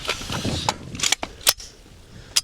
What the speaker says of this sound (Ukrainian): Переходимо до стрільби бронебійною кулею і спробуємо влучити так, щоб було наскрізне влучання.